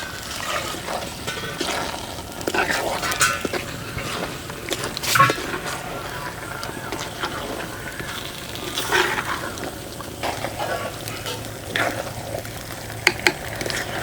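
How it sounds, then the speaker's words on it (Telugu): Soaked, drained basmati rice is stirred with soya chunks in a pot for a biryani, giving soft scraping and gentle sizzling, with occasional louder scrapes against the metal and a few sharp clicks near the end. "ఇదంతా 1 నిమిషం పాటు కలుపుకోవాలండి."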